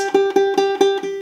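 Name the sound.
ukulele first string plucked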